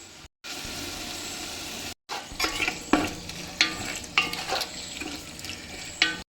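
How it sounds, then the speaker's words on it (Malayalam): Fried onions and yogurt go into a sizzling beef pulao masala, giving a busy, crackling fry with scraping stirs and splatters after a brief gap. It is close and moderately loud, and no one speaks. "കുറച്ച് സബോള ഇവിടെ ഫ്രൈ ചെയ്ത് വെച്ചിട്ടുണ്ട് അതിൽ കുറച്ച് ഇട്ട് കൊടുക്കുന്നു"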